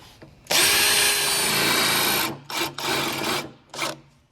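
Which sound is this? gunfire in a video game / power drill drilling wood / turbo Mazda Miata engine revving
power drill drilling wood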